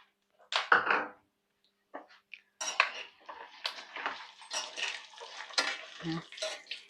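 Almonds, cashews, melon seeds and pistachios roast together in a dry pan, giving quiet, intermittent bursts of rattling and scraping as they are stirred, separated by short near-silent gaps.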